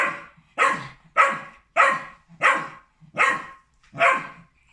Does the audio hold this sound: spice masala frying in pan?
no